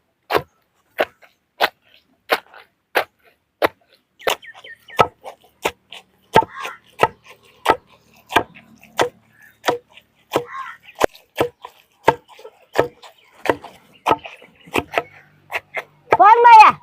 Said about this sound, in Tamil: நான் அடிக்கிறேன் சரி நல்லா கொத்தி எடுத்துக்கணும்